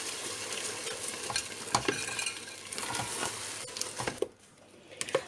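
Semolina halwa is stirred steadily in a pan over low heat, giving a close, continuous sizzle with frequent spoon scrapes and knocks against the metal and no talking.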